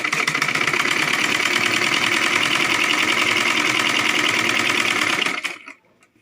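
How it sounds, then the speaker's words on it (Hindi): A sewing machine stitching a Rajputi lehenga runs in a steady, loud, rapid mechanical chatter for about five seconds, then stops abruptly into silence. "और एक पग की दूरी पर हम इसकी सिलाई कर लेंगे"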